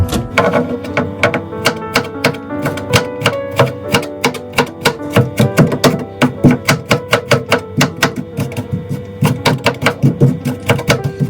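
Rapid knife strokes shredding peeled ginger on a cutting board, a steady rhythm of sharp chopping thuds close up and loud for the whole stretch, heard on its own.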